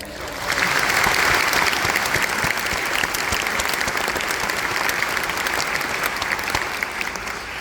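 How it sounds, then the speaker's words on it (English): An audience applauds at a high school academic letter ceremony, the clapping swelling in quickly and holding as a loud, sustained roar of many hands before easing slightly near the end. "Give a round of applause."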